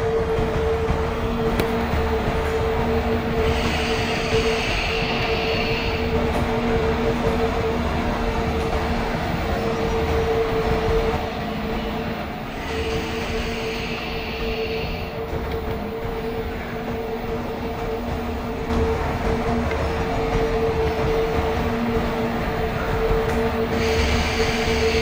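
Simulated passenger train running on a loop line in the Microsoft Train Simulator game, a steady rolling rumble with a sustained tonal hum and recurring bursts of higher whine, continuous and fairly loud, no talking.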